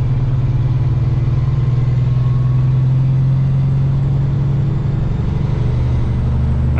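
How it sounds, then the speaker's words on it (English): A semi truck engine drones steadily as it climbs a steep hill at night in a blizzard, a loud, constant low rumble heard from inside the cab. "I love the sound of this truck."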